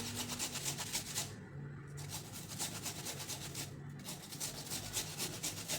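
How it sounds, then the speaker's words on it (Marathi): Raw amla, Indian gooseberry, grated by hand on a kitchen grater, a continuous close scraping rasp with regular strokes and brief pauses, no voices. "तर हे असे आपले कच्चेच आवळे घेऊन खिसून घ्यायचे"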